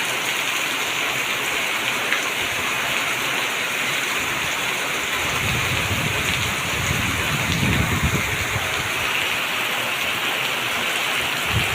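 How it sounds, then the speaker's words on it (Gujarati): Heavy morning rain pours down in a dense, continuous hiss, loud and close, with a deeper rumbling swell of water in the middle and no voices. "સવારના 10 વાગ્યામાં જોઈ લો વરસાદ"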